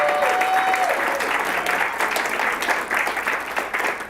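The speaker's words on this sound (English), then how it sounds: "Can we please give Bruce Kalman, top chef, a round of applause." An audience at a culinary arts institute applauds top chef Bruce Kalman, producing a full, steady round of clapping that tapers slightly toward the end, with a faint voice briefly audible underneath.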